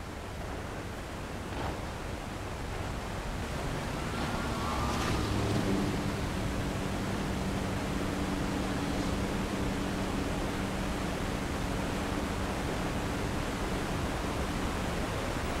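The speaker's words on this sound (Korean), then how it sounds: "이것이 샌 마틴 폭포다" A steady, dense roar of rushing water from San Martin waterfall at Iguazu Falls, loud and unbroken throughout, with a faint low engine-like hum joining midway.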